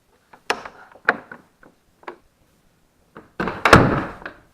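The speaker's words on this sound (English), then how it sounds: "Come through the glazed door of the porch" A glazed porch door at a quiet village church, with a series of sharp wooden knocks and clicks from the latch and frame, then a louder closing thud near the end.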